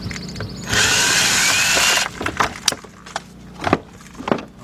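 A power drill whirs loudly for about a second and a half while taking out a lower bumper bolt on a 2007 Volkswagen Passat 2.0, followed by scattered clicks and clunks of parts being handled.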